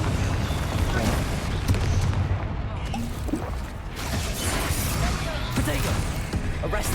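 Confringo fire spell blasts in the video game Hogwarts Legacy, a dense, rumbling burst of explosive booms and crackling impacts that stays loud throughout, layered with game effects and a talking voice.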